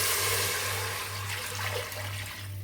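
Water from boiled rice being drained off in a home kitchen, a steady rushing pour that runs continuously and fairly close, with a low hum beneath it.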